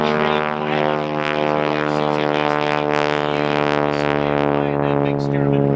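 A restored Stearman biplane flying an airshow routine, its radial engine and propeller droning loud and steady throughout, with a continuous rich harmonic roar that stays close and constant.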